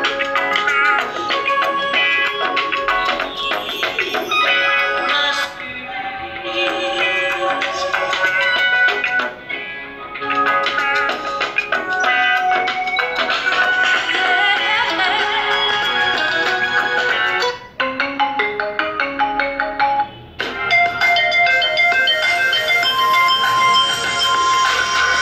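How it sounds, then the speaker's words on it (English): A melodic electronic ringtone plays loudly through a Lenovo K8 Note phone speaker, bright tones repeating in phrases with a few brief pauses. "Let's play a ringtone,"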